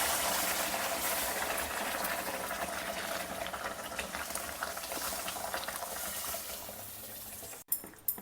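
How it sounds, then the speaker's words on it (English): Hot water poured into rava roasting in ghee over a low to medium flame, giving a loud, steady broadband sizzle and bubbling hiss that runs close up for most of the clip before cutting off abruptly near the end. "Now adding 2 cups of hot water to this."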